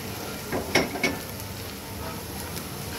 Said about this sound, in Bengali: এই আমি ঢেলে দিলাম আলু আর কলিজাটা।